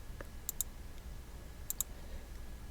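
Computer mouse clicks while holding the control key in the Atom editor: two quick pairs of sharp, close clicks spaced about a second apart over faint room hiss.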